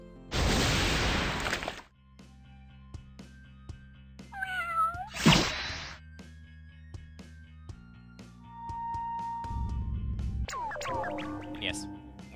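A cartoonish cat meows in Epic Battle Fantasy 4 amid game sound effects, one clear meow standing out over chimes and short bursts of noise.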